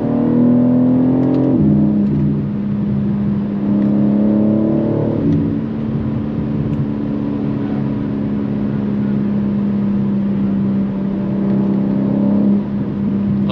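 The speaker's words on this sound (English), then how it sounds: "For some reason it was off and it's way louder now and it's popping." A 2023 BMW M3 G80 with its exhaust opened up accelerates hard, engine droning loud and close through rising revs with a couple of gear-change dips; distinct pops and bangs are not clearly separable from the engine roar.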